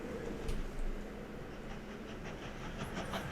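Steam-era train running in the Mashinky railway game, a steady rumbling rail roll with faint clacking and hiss, continuous and moderately quiet with no talk.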